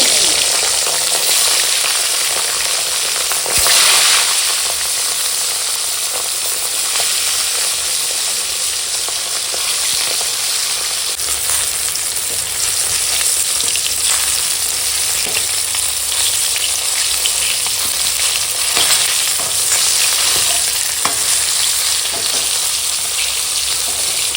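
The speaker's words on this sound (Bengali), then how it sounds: "তো দেখো এখন মাছগুলো ভাজা হয়ে গেছে" Rohu fish frying in oil that has already darkened from earlier frying makes a loud, dense, continuous sizzle that stays even throughout, with occasional light crackles and scrapes.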